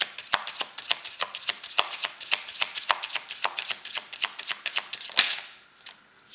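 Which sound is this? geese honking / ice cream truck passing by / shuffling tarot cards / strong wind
shuffling tarot cards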